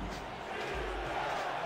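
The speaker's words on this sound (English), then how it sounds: "Crowd getting loud one more time." A football crowd at a preseason game, Dallas at Oklahoma City, gives a steady, dense roar of cheering that stays loud and unbroken throughout the brief moment.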